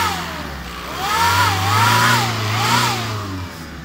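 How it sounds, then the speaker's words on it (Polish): Skoda Fabia 1.9 TDI diesel engine revved twice, the note rising and falling in two smooth swells over a steady idle; close and fairly loud. "No to dodaję gazu."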